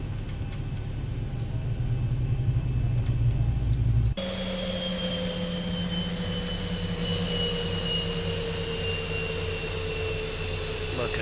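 Jet engines spool up in the X-Plane 12 flight simulator: a steady roar with rising whine tones that jumps abruptly partway through and keeps climbing, loud and continuous.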